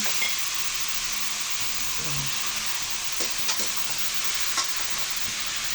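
Pork sautéing in a pan for Bicol Express, a dense, steady sizzle with a few spatula scrapes and taps near the end, close and unaccompanied by speech.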